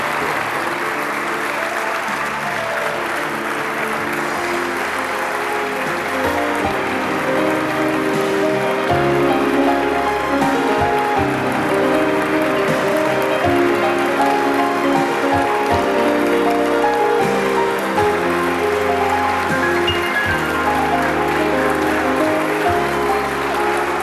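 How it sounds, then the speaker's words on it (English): Audience applause at a county fair queen pageant, sustained and dense for the whole stretch with a steady roar, mixed with music. "Give them a big round of applause as they come back on stage."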